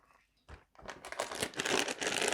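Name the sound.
plastic bag of game figures being handled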